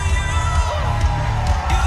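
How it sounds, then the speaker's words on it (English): A packed arena crowd roars, cheers and yells on its feet for a fighter's main-event debut, a dense, steady wall of voices with scattered whoops throughout. "The crowd is on their feet for the debut of Tommy Test."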